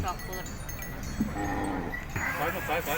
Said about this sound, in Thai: มาชมควายงามกับผมของพ่อกัน